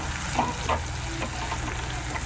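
Nalleru (veldt grape) chutney is stirred into a hot tempering of oil with turmeric and asafoetida, giving a steady close sizzle with soft scraping of the spoon against the pan.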